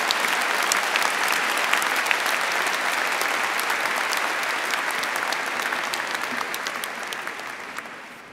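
A graduation ceremony audience gives steady, sustained applause for engineering graduates, a dense wash of many hands clapping in a large hall that slowly tapers off toward the end.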